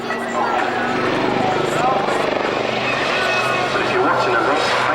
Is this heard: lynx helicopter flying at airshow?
yes